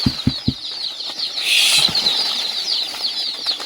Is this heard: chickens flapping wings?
yes